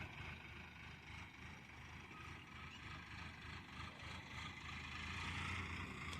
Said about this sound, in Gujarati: એક ગયું ને તો બીજું ટ્રેક્ટર આવી ગયું